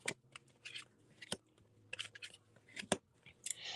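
Tarot cards are shuffled by hand in a quiet room, with a few sharp riffling bursts and soft slides spaced irregularly and heard up close.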